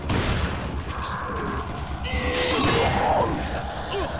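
Gunfire and crashing impacts from the Resident Evil 4 video game, dense and continuous with clattering and a swelling blast partway through, in a chaotic fight scene.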